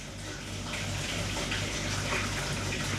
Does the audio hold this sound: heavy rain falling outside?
no